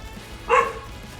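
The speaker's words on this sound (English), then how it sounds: "what are we barking at over here?" A single short, sharp dog bark in the middle of the clip, close by, with quiet background before and after.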